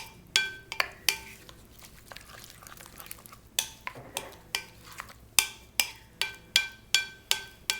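Spoon or utensil scraping and clinking against a bowl while stirring Mexican prawn cocktail with chopped cilantro, a steady series of sharp close taps and scrapes, about a dozen strokes in rhythm.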